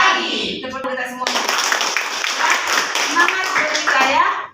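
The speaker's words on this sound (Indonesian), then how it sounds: "Tepuk tangan kita semua." A class of children in an Indonesian classroom claps together: a burst of hand clapping breaks in after a teacher's voice and continues close and lively, with voices mixed in.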